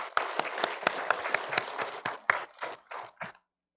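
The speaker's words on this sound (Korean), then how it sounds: "하나님께 영광의 박수 올려드리겠습니다" A congregation applauds together at a Sunday worship service in a Korean church. The clapping is dense and rhythmic, grows sparser and fades out toward the end, and no one speaks over it.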